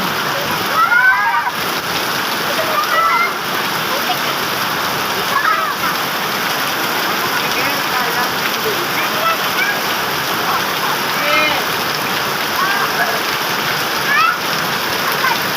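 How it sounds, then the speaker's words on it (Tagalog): Steady, heavy rainfall pours down without a break, a dense, even hiss of water filling the whole clip. "Mukhang last na yung ulan na yan."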